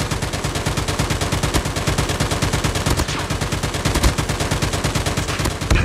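Sustained light machine gun fire in a Call of Duty match, rapid even bursts of shots rattling loud and close almost without pause.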